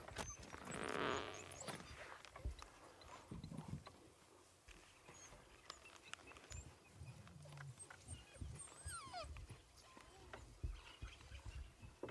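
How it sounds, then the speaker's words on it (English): African wild dogs at a game reserve whining in high, domestic-dog-like cries, heard in scattered bursts of varying loudness amid rustling, bird calls and a voice. "They do start to sound like domestic dogs when they whine, like they are now."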